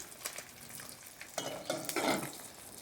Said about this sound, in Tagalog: So, kumukulo na ang ating tinula.